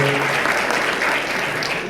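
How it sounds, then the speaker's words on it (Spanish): A conference audience at a customer-experience tech talk breaks into brief, dense, steady applause filling under two seconds. "un fuerte aplauso para la remera"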